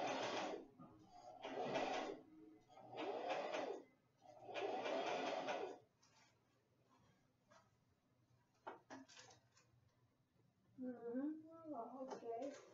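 A sewing machine runs a straight stitch in four bursts of whirring, each a few seconds long, followed by quieter handling clicks and a brief voice at the end.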